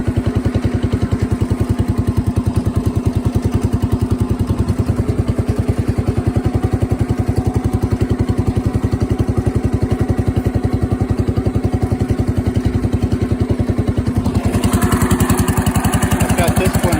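A 1970 Power King garden tractor with chained tires runs its engine steadily while pulling logs, a loud, continuous, close-up putter with a rapid pulse that holds throughout and shifts slightly in tone near the end.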